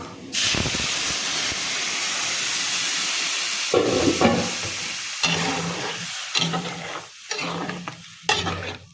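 Water hits fried taro in a hot pan, setting off a loud steaming hiss that dies back into sizzling, followed by several stirring scrapes.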